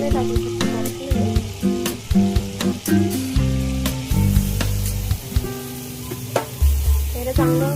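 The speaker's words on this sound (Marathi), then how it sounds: "त्याच्यात कांदा टाकते, थोडंसं तेल टाकते." Chopped onion fries in butter and a little oil in a pan for Mumbai-style pav bhaji, giving a steady sizzle broken by stirring clatters, with tonal background music running throughout.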